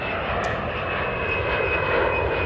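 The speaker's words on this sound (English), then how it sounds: "And the planes as well. And the airplanes." A propeller airplane drones loudly and steadily overhead near Heathrow Airport, a constant engine roar with a faint high whine.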